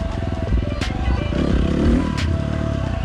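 Motorcycle engine pulling steadily in fourth gear at low speed on a trail, a loud continuous chugging drone with slight rises in revs and some clatter.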